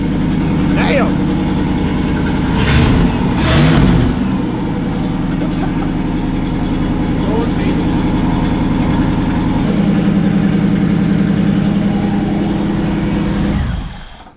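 An LS V8 engine swapped into a Chevrolet S10 idles with a loud, steady, deep rumble, close by, while people talk over it; a couple of brief revs near the start, then it cuts off at the end.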